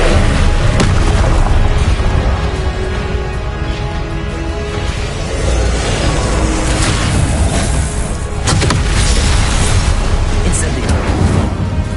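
Incendio fire spell cast repeatedly in the Hogwarts Legacy video game, loud booming fiery bursts and rumbling blasts layered over continuous game noise for about twelve seconds.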